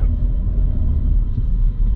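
A Volkswagen T-Cross drives along while its engine gives off a steady, loud, low rumble, heard as continuous cabin and road noise with no talking.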